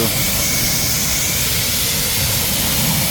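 A water rinse sprays the ceramic-coated wheels of a car after a track day: a steady, close, broad hissing rush of water that holds an even level throughout with no speech.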